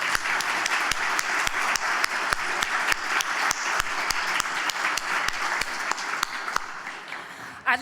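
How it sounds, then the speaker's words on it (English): Sustained applause from an audience at a business excellence awards ceremony honoring past recipients, steady dense clapping with a few sharper claps standing out, fading out near the end. "Let's give a big round of applause to the past recipients."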